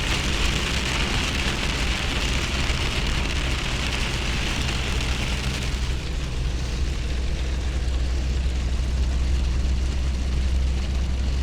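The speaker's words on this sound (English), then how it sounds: "it's raining hard. I mean hard." Hard, steady rain drums on a vehicle travelling a paved road, a dense continuous roar with no talking.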